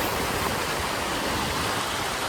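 Rainwater floods below Lakda dam in a steady, loud rush of churning water, a dense, unbroken roar with no voices.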